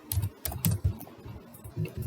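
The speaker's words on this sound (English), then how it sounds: "now let's start typing our list" Clicky keystrokes on a computer keyboard while HTML code is entered, coming in quick uneven bursts and short runs with brief pauses, close and fairly quiet, with no voices.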